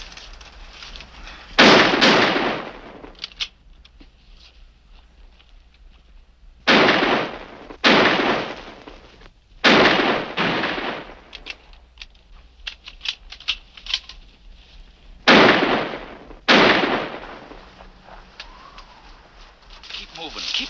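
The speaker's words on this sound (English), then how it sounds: "Hey, Joe, they've got guns." Gunfire in a shootout, several sharp loud shots in separate bursts with short echoing tails, ringing out between quiet gaps and coming close to the listener.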